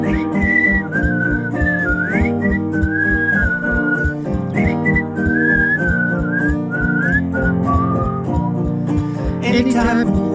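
A cheerful melody whistled clearly over steady instrumental backing, loud and continuous throughout.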